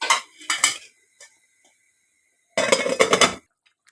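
A lid set onto a pot of rice gives a few sharp metallic clatters, then a short pause before another rattling burst of metal on metal, close and loud in a quiet kitchen.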